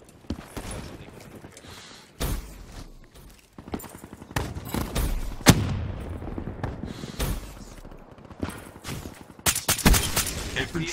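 Call of Duty Black Ops 3 firefight: sharp gunshots and bursts of automatic fire, some close and loud, others farther off, crackling irregularly over a rumbling battle backdrop.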